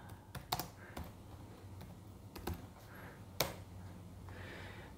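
Typing on a computer keyboard, a few quick clusters of key clicks and taps at a moderate distance separated by short pauses in a quiet room.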